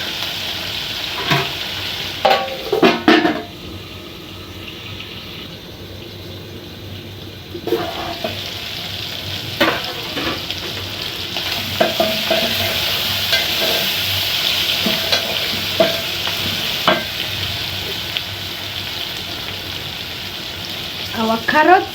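Beef and cabbage stew simmers and bubbles in a pot, with a steady low sizzle and occasional spoon stirs and clinks against the pot throughout.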